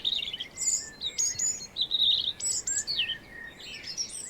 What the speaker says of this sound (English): The robin is one of the loudest.